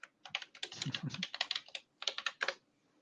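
Quick, close clicking of keys as a password is typed on a computer keyboard, fast runs of keystrokes with a brief pause partway through, in a quiet room with no talking.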